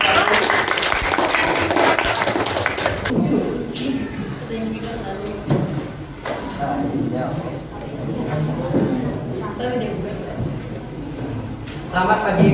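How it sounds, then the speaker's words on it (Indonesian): A classroom of students applauds a presenting group, a dense burst of clapping for about three seconds that fades as voices and classroom shuffling take over. "Oke, kita tepuk tangan untuk kelompok 1."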